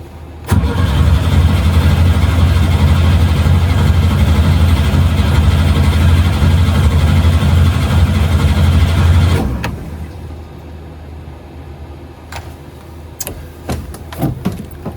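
A small engine started on choke and throttle runs loud and steady for about nine seconds, then cuts out abruptly, leaving quiet background with a few scattered clicks and knocks.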